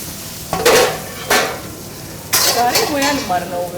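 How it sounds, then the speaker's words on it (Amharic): Pieces of chicken are dropped into a hot pan in a hotel kitchen, each landing with a sharp burst of sizzling, three close, loud bursts with faint pan clatter between them. "መጥበሻችን ስለጋለ ችክኑን እንጥላለን።"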